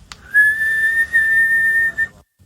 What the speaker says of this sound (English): And I could also whistle sucking in.